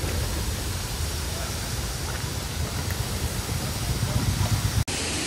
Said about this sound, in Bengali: এই দেখুন এই যে জলের ঝর্ণাটা রয়েছে, এটাই হচ্ছে বাকথাং ফলস।